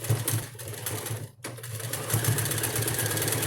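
A sewing machine stitches a double-sided diaper cover, its rapid mechanical chatter running close and steady, briefly stopping for a backstitch before resuming at full speed.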